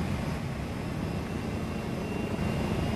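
A loud helicopter drones overhead in the video game The Culling, a steady, dense rumble with a continuous low thrum that stays constant and close throughout, with no talk.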